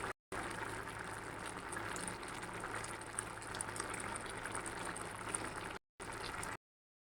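Chicken simmers in the water it has released, giving a steady, soft bubbling hiss with a brief break near the end.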